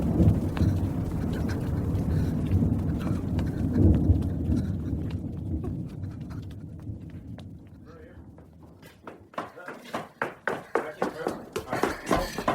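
Steady rain with a low thunderstorm rumble for an audio drama of Dickens' The Old Curiosity Shop, loud and continuous, thinning toward the end as sharp, rhythmic knocks or hoof-like beats come through.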